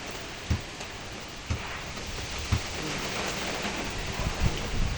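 Steady rain from a typhoon hisses continuously, with a few soft low thumps at regular intervals beneath it.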